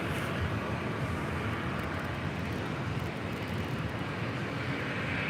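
At LAX a jet plane rolls down the runway for takeoff. Its engine roar is loud and steady, a broad, unbroken rumble that holds throughout with no voices over it.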